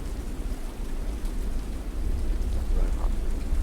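Steady rain pours down in the video game The Dark Egg, a dense, constant hiss of falling water with a low rumbling undertone, heard on its own without any voices.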